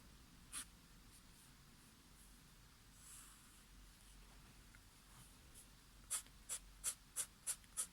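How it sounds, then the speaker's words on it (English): A pen scratches sketchy netting lines on paper for a pen-and-watercolour boat drawing: one faint stroke early, then a quick run of six crisp, close scratches at the end in a quiet room. "I'm just going to just scratch some of those down so you can see the netting coming across"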